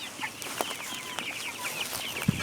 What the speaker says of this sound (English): So these are the Freedom Rangers, Red Rangers. They are the meat chickens and they like to forage